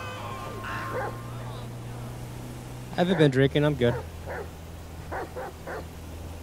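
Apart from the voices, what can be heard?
dog barking in the video game Grand Theft Auto V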